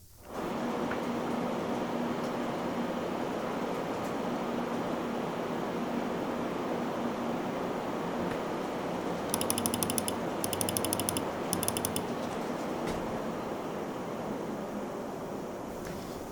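A small NR200P V3 PC case with a fully loaded 7800X3D gives off a steady, broad whooshing fan noise. It holds at a constant level throughout, with a few faint high-pitched ticking bursts partway through and no speech.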